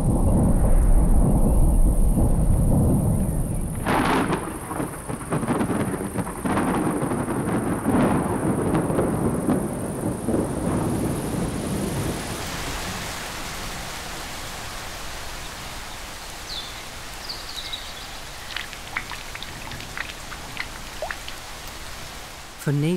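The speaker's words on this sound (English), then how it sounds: "A typical summer thunderstorm is brewing." A summer thunderstorm brings steady heavy rain with low rumbling thunder, a dense roar that eases into softer patter with scattered drips.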